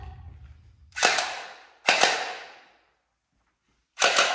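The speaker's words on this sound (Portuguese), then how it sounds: "E com esta arminha, nós vamos derrotar o Zap. Vamos fazer um teste." An Orbeez toy gun fires gel balls in three sharp, loud bursts, the first two close together with decaying tails and a third after a short pause, with no talk.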